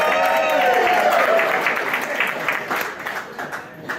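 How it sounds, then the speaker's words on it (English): Audience applause at a live evening event, a crowd clapping with some cheers and whoops, loud at first and then gradually fading over four seconds. "a round of applause for him"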